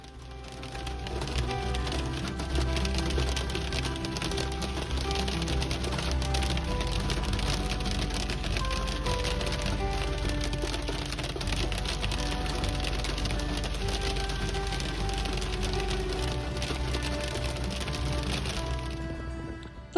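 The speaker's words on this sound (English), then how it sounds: "Some heavy rain and hail along the road." Heavy rain and hail pelt down along a road, a dense continuous roar of drumming and pattering impacts, loud and steady throughout with no voices.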